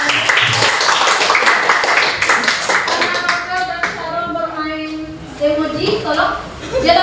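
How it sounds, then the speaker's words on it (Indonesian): A classroom of students claps for a classmate, a burst of dense clapping at first that fades into voices chattering and talking over the last few seconds. "Terima kasih Nurul, tepuk tangannya."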